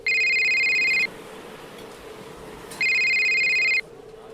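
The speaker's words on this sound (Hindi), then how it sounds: "सेंटेंस पूरा करने से पहले ही सिद्धार्थ का फोन बजा।" A mobile phone rings as a sound effect in a Hindi audio drama: two loud, close bursts of a bright electronic ringtone, each about a second long, separated by a short pause with low background hum.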